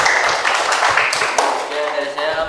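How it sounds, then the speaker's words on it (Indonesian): A small group at a math lesson claps briefly, a few scattered, close hand claps that come unevenly and thin out quickly while someone talks. "Boleh tepuk tangan buat Edgar."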